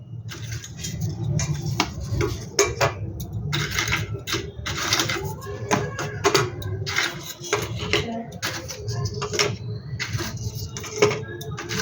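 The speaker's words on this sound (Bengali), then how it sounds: "এবার আমি একটা প্লেট সাজিয়ে দেখাচ্ছি তোমাদের।" Stale roti papri crisps are set out on a plate, giving a steady run of light, dry clicks and brittle taps against the dish, close and fairly busy throughout, over a low background hum.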